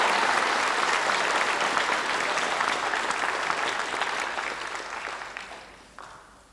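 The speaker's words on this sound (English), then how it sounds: "let's give them all another round of applause." A crowd applauds graduating students at a high school graduation ceremony in Thousand Oaks, a dense, loud wash of clapping that gradually fades toward the end.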